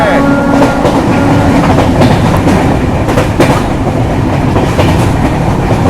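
12242 Amritsar–Chandigarh Intercity running on rails in rainy winter weather, loud continuous on-board rumble with rhythmic clickety-clack of wheels over joints and occasional sharper clanks, close and steady throughout.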